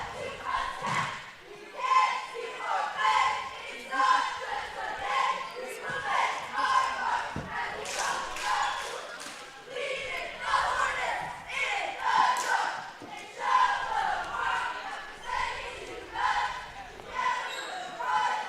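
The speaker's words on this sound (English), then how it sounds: "See the Woodlawn cheerleaders doing their opening cheer" Woodlawn cheerleaders perform their opening cheer at a junior high boys' basketball game in a gym, chanting in loud rhythmic bursts with stomps and claps, moderately distant and echoing, with crowd noise around them.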